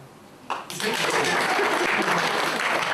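After a brief quieter moment, a comedy-show audience abruptly bursts into clapping that swells and holds loud and steady, with a voice faintly present beneath.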